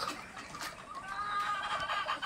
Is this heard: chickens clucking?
yes